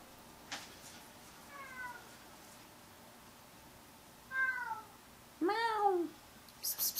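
A house cat gives several short meows at close range in a quiet room, rising and falling, the last one louder and longer, with a few faint clicks and rustles between them.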